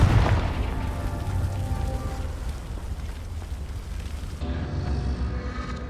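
A Confringo fire spell is cast in the Hogwarts Legacy video game, bursting as a loud booming blast that rumbles and decays over several seconds before cutting off abruptly.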